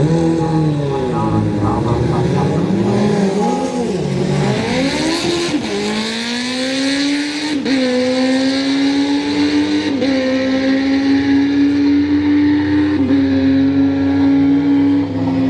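A drag racing car making close to 1500 horsepower launches at a street night event at Orlando Speed World, its engine roaring loud and close, pitch climbing and dropping through shifts in one sustained run.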